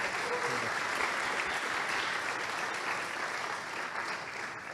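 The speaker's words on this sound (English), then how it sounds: "Please, a round of applause for our top sponsor" Audience applause at a hackathon kick-off presentation for its top sponsor, a thick continuous wash of clapping from a large room that holds steady and eases slightly toward the end.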